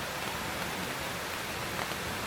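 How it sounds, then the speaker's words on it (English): Heavy rain pours down steadily in Hanoi in August, a dense, continuous hiss with no pauses, loud and close. "the rain starts pouring down"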